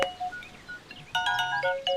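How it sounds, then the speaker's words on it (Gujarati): A mobile phone ringtone plays a short, faint melodic sequence of bright electronic notes in a quiet indoor scene, the notes repeating in a quick pattern without talk over them. "તારા મોબાઈલની રિંગ વાગે છે"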